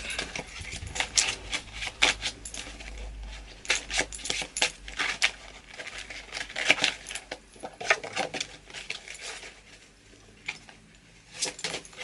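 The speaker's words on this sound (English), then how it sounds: "let's shuffle the deck." A tarot deck shuffled by hand in close, crisp rapid riffles and flicking card bursts, repeated in uneven waves without talk.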